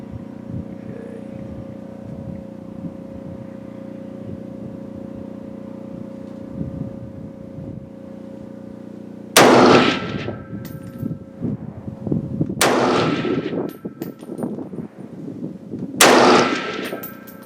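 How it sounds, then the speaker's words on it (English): A Century Arms C308 rifle fires its first three shots outdoors at a range, each a sharp loud crack with a ringing tail, spaced a few seconds apart after a quiet stretch of low background noise. "C308, my first shots."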